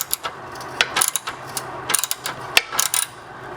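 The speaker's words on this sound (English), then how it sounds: "we're gonna take this bolt off of the clamp here. And we're just gonna loosen that" A ratchet wrench loosening the exhaust clamp bolt on a 2013 Honda CBR1000RR motorcycle, several quick bursts of close, crisp clicking with short pauses between.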